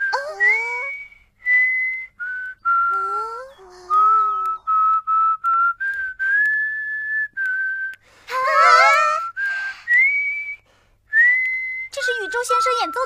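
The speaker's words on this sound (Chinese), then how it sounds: "原来口哨吹得那么好 啊！" A person whistles a lively melody in short, clear phrases with gliding pitch, close and loud, with brief gaps between notes and a couple of busier, more layered bursts near the middle and end.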